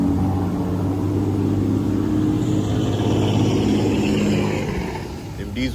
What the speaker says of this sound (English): Them diesel trucks, man.